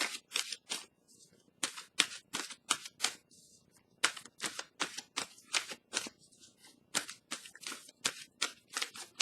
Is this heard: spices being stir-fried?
no